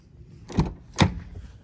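Car door of a 2021 Jeep Grand Cherokee L with about 11,000 miles, two solid, close thunks about half a second apart, heavy and clean with no hinge squeak.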